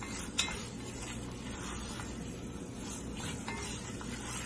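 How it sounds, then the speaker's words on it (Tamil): Chicken sautéing in a pan, giving a continuous loud sizzle with a metal utensil scraping and clinking against the pan as it is stirred. "நல்லா சிக்கன் அந்த வெள்ளை கலரா மாறும் பாத்தீங்களா, ஒரு மாதிரி ஒயிட்டா, அந்த அளவுக்கு சாட்டே பண்ணிக்கிறோம்"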